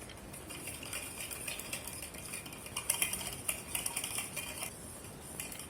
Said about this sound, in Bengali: এখন একটা হ্যান্ড উইচের সাহায্যে আমি সব কিছু খুব সুন্দরভাবে মিশিয়ে নেব।